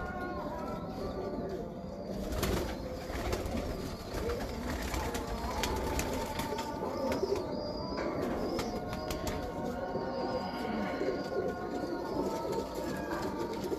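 Breeder pigeons cooing in a loft, soft repeated low coos and occasional wing flutters, moderately faint against a busy background with brief distant voices.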